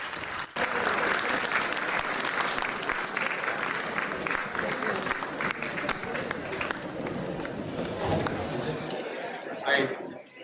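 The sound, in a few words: audience applause for a standing ovation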